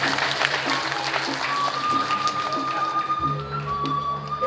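An audience applauds at a traditional drama gong theatre performance staged by an arts studio troupe: scattered, fairly soft clapping pattering along over sustained ringing tones from the stage.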